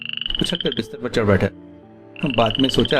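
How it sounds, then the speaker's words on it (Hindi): A frog croaks outside at night in a repeated raspy call, heard at the start and again near the end, under a narrator's voice. "अचानक बाहर से मेंढक के टर्राने की आवाज आई"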